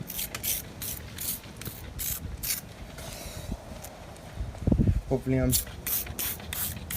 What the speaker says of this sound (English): let me just spray it on there so you can see